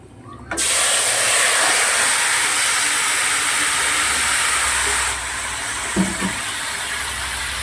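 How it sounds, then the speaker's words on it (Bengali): A sudden loud hiss bursts out as whole garam masala hits hot oil in a kadai, then a steady sizzle continues, easing slightly near the end with a brief clunk. "গোটা গরম মশলা দিয়ে দিলাম ফোড়নে"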